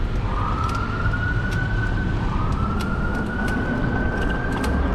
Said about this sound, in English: I hear the siren again.